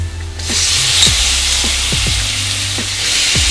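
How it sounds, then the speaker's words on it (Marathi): Potatoes and eggplant hit a pan of frying spices for a Maharashtrian vangi batata bhaji, and a loud, steady sizzle bursts in after a brief quiet start. Dull knocks of stirring recur underneath. "आता आपण मसाले व्यवस्थित फ्राय करून घेऊ त्यानंतर आता आपण बटाटे आणि वांगे ॲड करूया त्याच्यात"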